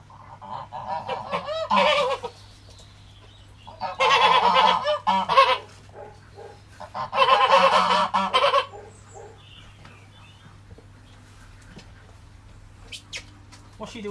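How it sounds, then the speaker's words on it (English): A hand-fed goose honks loudly and repeatedly up close in three strong bursts during a morning bird feeding, with quieter calls trailing off between them. "Yeah, you're a hand-fed goose."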